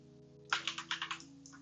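Quick burst of about six or seven keystrokes on a computer keyboard, close and clear, tapping over a steady low hum while a Rhino and Grasshopper parametric facade model is built.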